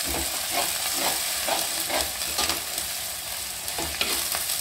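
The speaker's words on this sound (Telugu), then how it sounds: "కొద్దిగా కొత్తిమీర, ఇది కూడా కొంచెం ఫ్రై చేయాలండి." Coriander leaves sizzle and crackle steadily in hot oil while being stirred for a chicken pulav, with a close, continuous frying hiss broken by scraping stirs and no talk.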